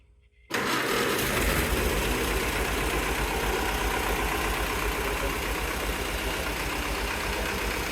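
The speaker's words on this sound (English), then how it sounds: "that is a quiet tractor." A Farmall tractor with a custom exhaust starts up after a moment of near silence, then idles in a steady, even low rumble that stays fairly quiet and unchanged to the end.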